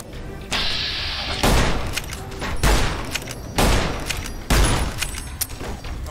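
Loud gunfire in Fallout New Vegas: a tone-like hum gives way to several heavy, booming shots and short volleys that land roughly once a second, each trailing off before the next.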